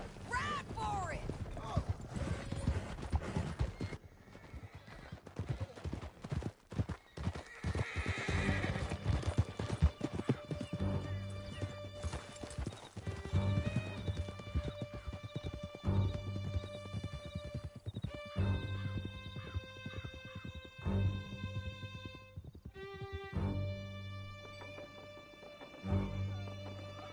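Horses gallop in Red Dead Redemption 2, with loud, fast hoofbeats, an occasional neigh, and rushing wind, while riders speak over the pounding, with music entering partway through.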